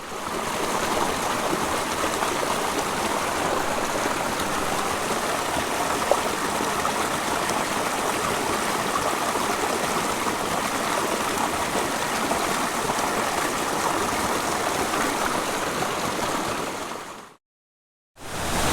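Steady rushing of a creek holding brook and Yellowstone cutthroat trout, filling the whole stretch with dense, even flow, near and loud, before a brief gap of silence near the end.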